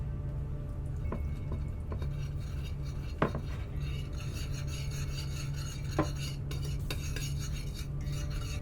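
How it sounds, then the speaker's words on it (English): Whisk scraping and clinking against a dish while mixing a marinade of grated garlic, ginger and toasted sesame oil, soft steady rasping with a few sharper taps, no voices. "add 1 teaspoon of toasted sesame oil and whisk that all together"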